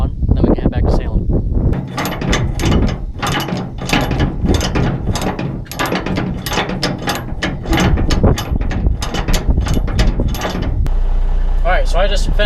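Ratchet straps being reeled up on a truck after unloading hog slats, a long run of loud, rapid metallic clicking bursts with short pauses, close to the listener, a voice briefly heard near the end.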